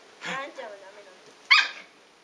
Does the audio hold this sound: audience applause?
no